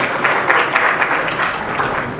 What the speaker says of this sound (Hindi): उनके लिए एक बार जोरदार तालियां हो जाए